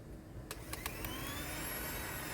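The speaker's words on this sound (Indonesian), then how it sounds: "karena mixer saya yang besar rusak, saya gunakan hand mixer" Electric hand mixer kneading pastry dough of flour, salt and margarine, a steady high motor whine that starts with a few short bursts and then runs continuously and close, with no talking.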